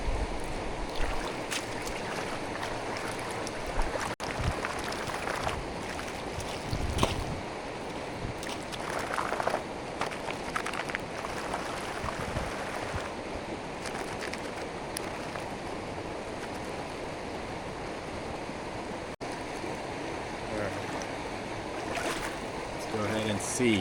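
Gold pan of clay-covered bedrock being washed in creek water, continuous swishing and sloshing with trickling stream flow throughout, close and steady with occasional clunks.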